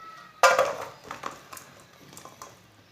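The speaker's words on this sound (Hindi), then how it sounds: "अब आधा किलो गुड़ डाल लेंगे।" Half a kilo of jaggery drops into hot oil in a wok with a sudden loud close-up thump and crackle, followed by a few softer clinks and scrapes that fade.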